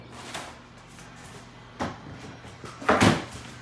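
A kitchen cupboard door in a house in Florida knocks shut twice, the second bump louder, over a quiet room hum.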